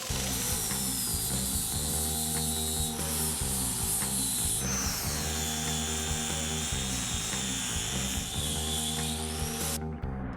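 Angle grinder smoothing welds on a custom Dodge Power Wagon truck frame, a loud, steady, close grinding whine with a rhythmic pulsing texture that runs continuously throughout with no voices.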